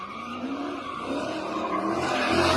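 A car swerving and skidding at a street takeover, with a sustained tire squeal and engine noise that builds steadily over a couple of seconds, close and loud.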